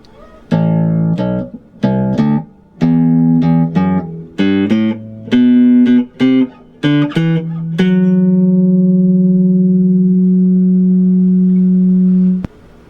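A bass guitar plays a single-note riff, plucked notes stepping up and down, ending on a long sustained low note that rings out and fades.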